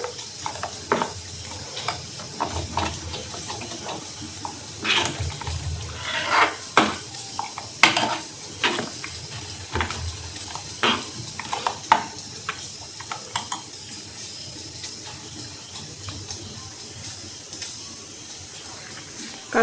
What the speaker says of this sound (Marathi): आता कसुरी मेथी. व्यवस्थित हे मिक्स करून घ्यायचं.